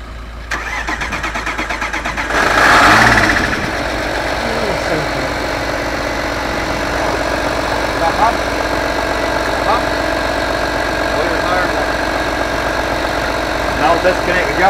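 A Skoda Superb Mk1 2.5 TDI diesel engine, unstarted for months, cranks and catches with a loud rumble, then settles into a steady, slightly rattly idle that continues to the end.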